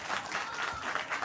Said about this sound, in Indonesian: Tepuk tangan untuk yang seperti itu